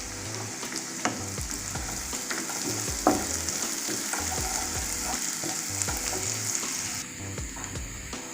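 Sliced onions and chopped green chilies frying in oil in a pan for bhindi masala, a continuous close sizzle with repeated scraping and knocking of a spoon as they are stirred.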